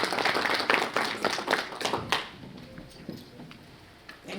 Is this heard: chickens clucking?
no